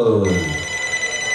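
A telephone bell rings loudly as a sound effect, a sustained tonal ring that slowly fades over a second or so with no talking.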